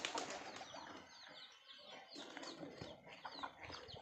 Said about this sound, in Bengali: দেখুন এখানে সব পায়রাগুলো বেরিয়ে গেল বাইরে।